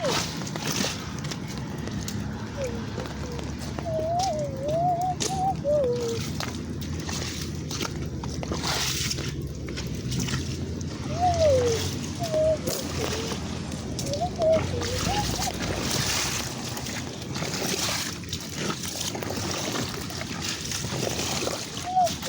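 Water flows through a freshly cleared outdoor drain among fallen leaves, a steady sloshing and trickling that continues throughout at moderate level.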